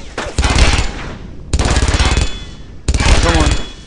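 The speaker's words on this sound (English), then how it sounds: "That's machine gun, isn't it?" Sustained bursts of machine gun fire from the Brothers in Arms World War II shooter game, three loud, dense rattling volleys separated by short gaps, with voices shouting over the battle.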